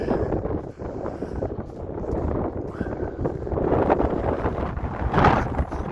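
Blustery wind buffets the microphone under a seaside pier at extremely low tide, a steady rough roar with stronger gusts swelling toward the end, no voices.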